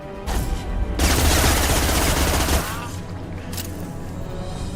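Loud, dense bursts of gunfire in the video game Mass Effect 2, a sustained volley with rapid overlapping shots that stops abruptly, followed by quieter scattered combat noise.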